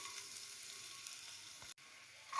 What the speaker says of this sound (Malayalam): നെയ്യ് ചൂടാകുമ്പോൾ വെളുത്തുള്ളി ഇടാം,